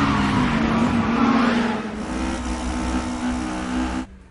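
Toyota 86 race car engine from the Initial D arcade racing game, a loud steady roar holding near constant pitch for about four seconds before cutting off abruptly, with no talk.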